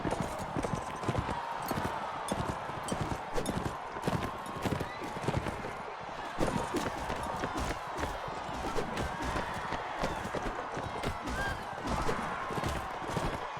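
Horse hooves gallop in rapid, continuous clip-clop rhythms in the Mount and Blade Warband video game, with occasional whinnies over a faint battle crowd and someone talking now and then.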